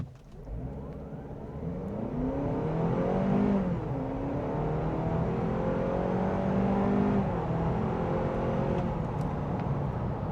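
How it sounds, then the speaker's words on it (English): A 2024 Honda CR-V Sport-L Hybrid four-cylinder engine revs up steadily through the gears, rising whirring tones climbing and dropping as it accelerates, loud and continuous throughout. "I really like the sound of this 4-cylinder"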